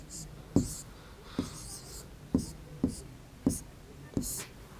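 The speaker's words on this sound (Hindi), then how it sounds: "तो हम यहाँ लिख देंगे 10 बालिश्त" Chalk or marker writing down a length measurement on a board in a primary school maths lesson, sharp taps and short strokes repeating every half second or so under a quiet, soft-spoken voice.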